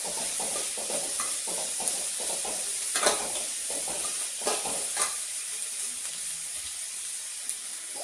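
Sliced onions frying in a pan over a low flame, a steady soft sizzle and hiss with occasional stirring scrapes and light pops, close and continuous with no talk.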